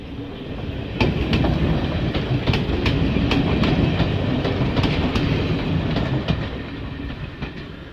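A steam train rolls past on nearby tracks beside a bike path, with loud, steady rumble and repeated clickety-clack wheel beats over about eight seconds, no voices.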